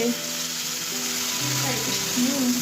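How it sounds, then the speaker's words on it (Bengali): Spice masala frying in a pan, a continuous close hiss of sizzling oil with faint voices talking in the background. "মশলা কষানো হচ্ছে"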